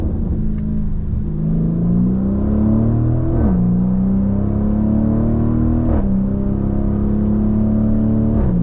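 A 2025 Lamborghini Urus SE super SUV accelerates hard, its engine note rising in steady sweeps and dropping sharply at two downshifts, loud and close with a continuous throaty rumble and no talk.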